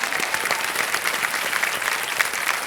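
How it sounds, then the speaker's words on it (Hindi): Dense, steady clapping from a studio audience on the KBC (Kaun Banega Crorepati) quiz show set, sustained and even for the whole stretch with no voices on top. "तालियों के साथ एक बार फिर"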